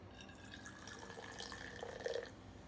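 Liquid is poured into a cup with soft splashing and drips that build to a brief louder gurgle near the end, quiet and close.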